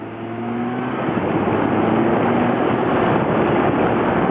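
A Kawasaki Versys 1000 motorcycle ridden on the road in low power mode gives a steady, loud engine drone mixed with heavy wind rush, with no talking.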